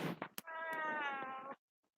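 A pet cat indoors at home gives one long, clear, close meow lasting about a second, after a brief faint human sound, then silence.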